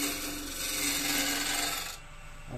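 A gouge cuts into spinning wood on a lathe, making a steady, close scraping hiss with a low motor hum underneath. The cutting stops sharply near the end and the hum fades.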